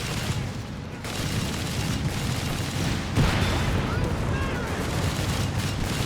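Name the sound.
gunfire in video game Company of Heroes 3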